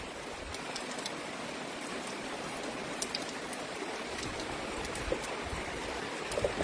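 Steady rain at a ranch, falling hard onto water and surfaces, makes a dense, continuous hiss with scattered drip and splash accents throughout, and no one speaks.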